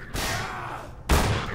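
Gunfire in Half-Life 2, two loud close bursts of weapon fire separated by a short gap, the second heavier and sharper, with no talk over them.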